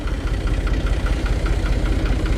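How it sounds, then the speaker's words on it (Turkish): Fiat 480 tractor engine idling with its exhaust, a close, steady low rumble with a regular pulsing beat of firing strokes and mechanical vibration. "Egzozda biraz farklı bir ses çıkıyor ama çok da güzel bir ses çıkıyor."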